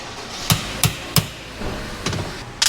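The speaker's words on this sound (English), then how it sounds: "just do one of these numbers here to drive this axle out, because it is kind of a press fit in here" A hammer drives a press-fit axle out of a new 2025 Yamaha Sidewinder Final Edition snowmobile. About six sharp metallic blows ring out close by, three in quick succession, a pause, then more, with no talk.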